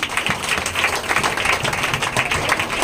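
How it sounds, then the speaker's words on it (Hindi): A congregation at a Sunday church service claps loudly and continuously, a dense wash of applause filling the room throughout. "जोरदार ताली बजाएंगे माता के लिए"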